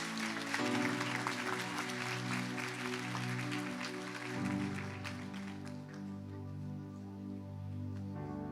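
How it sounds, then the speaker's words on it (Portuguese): Congregation clapping in a church, a sustained wash of hands over steady organ or keyboard chords, gradually thinning toward the end. "Você pode aplaudir o Senhor?"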